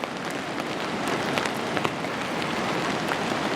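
Rain falls on a taut backpacking tarp, a dense steady patter with sharper individual drops tapping through it, close and constant throughout, with no voices.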